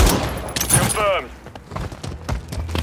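Call of Duty combat gunfire, a few crackling bursts of shots mixed with shattering impacts, heard under in-game soldier callouts and a short radio-like voice.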